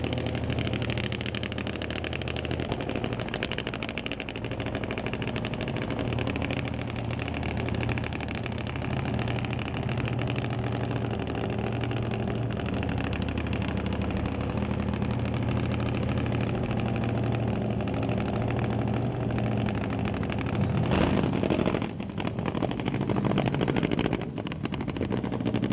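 A drag racing motorcycle engine running at the start line of an old-time drag strip at Mission Raceway Park, a loud steady droning rumble throughout with a brief surge of sharper revving near the end.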